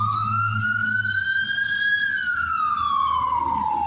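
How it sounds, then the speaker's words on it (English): A fire truck siren passes close by on the street, loud and wailing, its tone climbing steadily and then dropping away as the vehicle moves past. "I'm trying to let the fire truck go by. It was loud."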